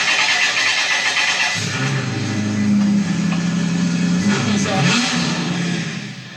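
A Maserati-sourced 400-horsepower engine in a Porsche-based hot rod starts up and runs with a steady, close mid-pitched drone and slight rises in revs, lasting several seconds.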